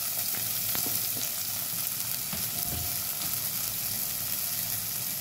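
Chopped fenugreek stems and green chilies fry in a pan for methi dal, giving a continuous, moderately loud hissing sizzle with light stirring clicks throughout.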